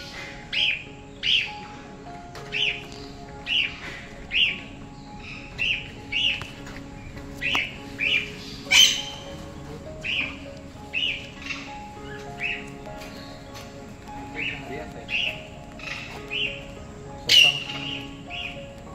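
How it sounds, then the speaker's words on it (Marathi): Many birds call inside a large aviary cage at the Karnala Fort bird sanctuary, giving steady, repeated chirps and whistles at a moderate distance, with occasional sharper squawks rising above the chorus. "ह्या मोठ्या केजमध्ये खूप सारे पक्षी."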